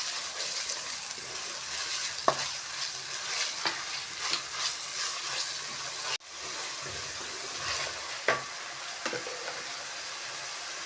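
Ground coriander and cumin paste frying in a pan for chicken masala, a steady sizzle with intermittent scraping stirs of a spoon, close and continuous, one brief pause midway, no talk.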